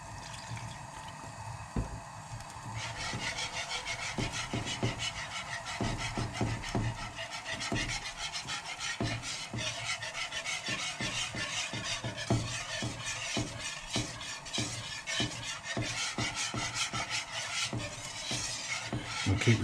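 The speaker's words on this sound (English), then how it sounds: "We'll keep repeating this process of stirring and adding milk until we've got a nice creamy sauce" Spoon stirring gluten-free béchamel sauce in a pan while milk is worked in: a steady, continuous scraping and rubbing with brief wet sloshes, close and fairly even throughout.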